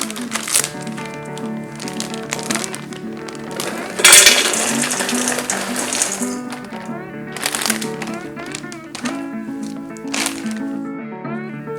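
A whole bag of frozen shredded hash browns tumbles into a mixing bowl for a sausage hash brown breakfast casserole, a loud crinkling rush of shreds and plastic bag near the mic, heard among ongoing rustling, with music playing under it.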